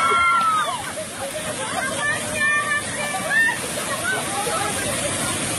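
Water from a waterfall splashing and pouring down steadily, a loud continuous rushing wash with people talking and chattering over it.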